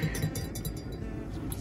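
Glass clinking in a pub, a few faint light clinks over low background noise.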